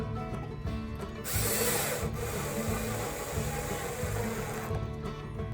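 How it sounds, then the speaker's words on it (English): A power drill drives screws into a wooden floating gaming shelf, a steady loud whirring grind running close by for several seconds with a slight lift and a break near the end, no talk. "I'm going to go ahead and put some screws in it."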